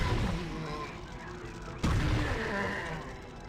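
Gunshots in the Warhammer 40,000: Chaos Gate video game, with a sharp crack near the midpoint and dense rumbling combat sounds before and after it.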